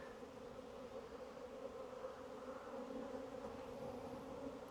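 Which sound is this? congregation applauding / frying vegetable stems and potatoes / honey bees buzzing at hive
honey bees buzzing at hive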